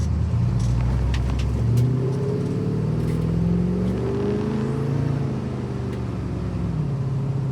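A 1978 Ford Bronco engine revs up hard under throttle, its rising and falling pitch close and loud against a steady rumble, with no talking.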